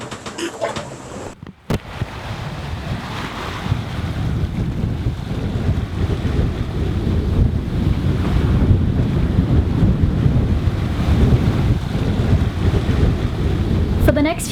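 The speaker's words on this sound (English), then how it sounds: "It blew a steady 15 to 20 knots on a beam with some awful swell on the side" Strong wind buffeting the microphone on a sailing yacht at sea in a beam wind, with heavy rushing water and ocean swell, a continuous loud roar after a brief quieter opening.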